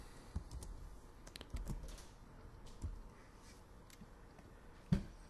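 Someone types on a computer keyboard in bursts of soft, quiet key clicks, with one sharper keystroke near the end.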